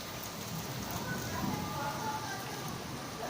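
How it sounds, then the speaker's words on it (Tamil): Heavy summer rain pours down at night over a Chennai street, a dense steady hiss that stays constant throughout, with faint low rumbles underneath. "மழை ஜோர பெய்யுது."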